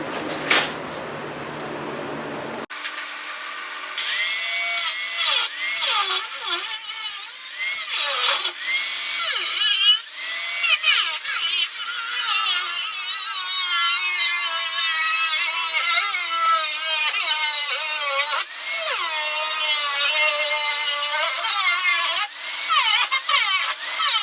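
A power tool cuts through the rusted steel door bottom of a Chevy C10 truck. After a few brief knocks, a loud, close, continuous grinding whine runs almost unbroken for about twenty seconds.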